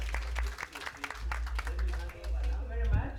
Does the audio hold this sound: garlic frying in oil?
no